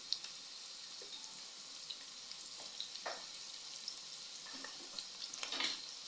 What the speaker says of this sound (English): So I'm putting the onions.